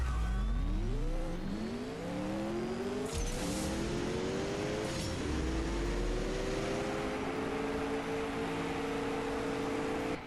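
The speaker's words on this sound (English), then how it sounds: "that's the new Legends car that I'm racing" Race car engine in the mobile drag racing game CSR2, revving hard and accelerating through several rising gear-shift sweeps, loud and continuous with no talking.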